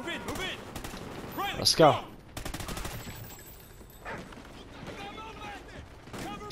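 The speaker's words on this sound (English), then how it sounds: "I'm using the Honey Badger, which is one of my favorite guns in this game." Honey Badger gunfire in the video game Call of Duty: Ghosts, short automatic bursts and scattered shots mixed with other battle effects, with someone talking over it.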